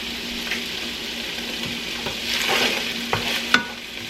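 Garlic and onion fry in a pan for tacos with a steady broadband sizzle, joined by a few sharp stirring scrapes and clicks near the end. No one speaks.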